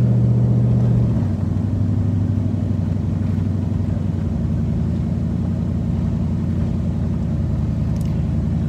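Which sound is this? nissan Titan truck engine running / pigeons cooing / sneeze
nissan Titan truck engine running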